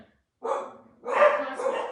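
Dogs bark indoors close by, two sharp loud bursts of barking in quick succession.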